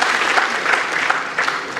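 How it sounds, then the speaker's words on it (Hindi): Applause from an audience at a university foundation day ceremony, a dense steady patter of many hands clapping throughout, with no voices. "एक बार जोरदार उनके लिए तालियां"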